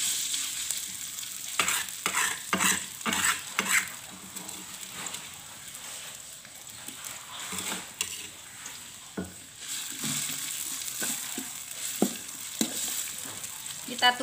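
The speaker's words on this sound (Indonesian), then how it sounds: "Selanjutnya bumbu rica-rica kita tumis ya." Rica-rica spice paste stir-fried in hot oil in a pan, a steady close sizzle broken by repeated scraping strokes of the spatula, with no talking.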